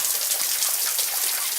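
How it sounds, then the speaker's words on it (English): Water from a hose-fed homemade rain machine patters steadily onto Monstera leaves, a dense, even hiss of close drops with no voices. "I've got the hose up there, going into a rain machine"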